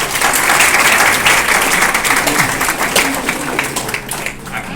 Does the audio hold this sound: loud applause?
yes